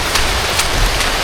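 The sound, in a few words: rain falling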